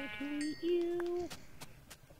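Sheep bleating in a Minecraft-style survival game, two drawn-out tonal bleats back to back, followed by a few faint clicks.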